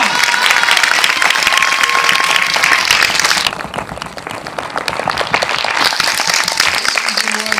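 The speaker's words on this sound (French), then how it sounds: "on va continuer encore à applaudir" Loud, steady audience applause fills a cinema at a film premiere in Montluçon in 2014, dense clapping that continues throughout with a slight drop in intensity midway.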